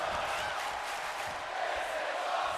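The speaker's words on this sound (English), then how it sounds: "this crowd has been raucous all night in appreciation of some great in-ring action" A roaring virtual arena crowd in the WWE 2K24 wrestling game makes a steady, dense wash of cheering and shouting that stays fairly constant throughout.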